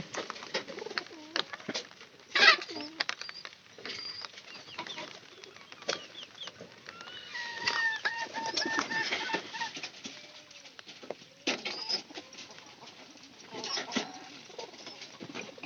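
A pigeon cooing softly with bursts of wing flapping as it flies down and lands, other birds calling faintly in the background of an outdoor loft.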